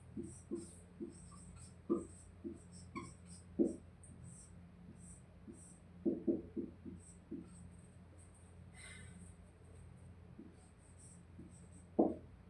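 In an ethics lecture, chalk or marker taps and scratches on a board in short, irregular clusters with pauses between, faint and close, over a quiet room hum.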